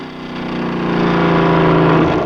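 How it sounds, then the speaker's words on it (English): A car engine revs and builds as the vehicle accelerates, a loud, rising drone with a rough low rumble that swells steadily from start to finish, with no voices over it. "You just press this pedal and you go fast and it makes a lot of noise."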